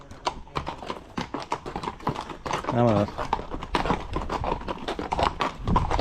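Horse hooves clip-clop in an irregular rhythm at the start of a guided horseback tour in the Serra de Tramuntana, Mallorca, while people talk close by and sounds of movement and handling mix in.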